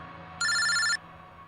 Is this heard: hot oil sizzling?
no